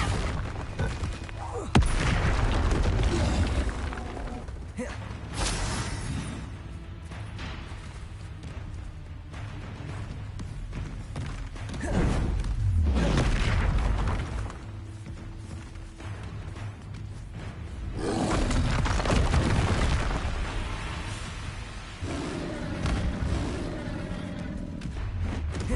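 Bombarda and Confringo spell blasts in Hogwarts Legacy erupt as heavy booming explosions one after another, loud and dense over a continuous roar of combat, with a voice shouting spell names over them.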